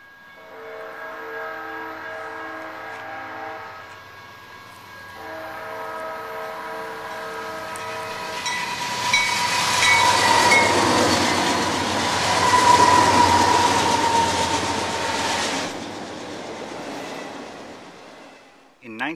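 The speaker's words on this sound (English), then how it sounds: "they hear the sound of a train whistle even though there is no train nearby" A train rolls past with a drawn-out whistle sounding first, then a loud rising rush of rail and wagon noise that swells to a peak and fades away.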